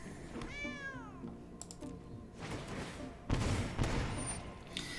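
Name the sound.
cat meowing in digital card game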